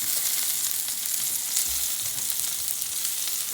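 Asparagus fries in a light coating of olive oil in a pan, giving a steady, close hiss of sizzling that carries alone with no talk.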